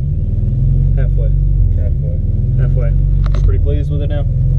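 A Honda race car engine idles high after a throttle body swap, a loud steady low rumble running throughout while people talk over it.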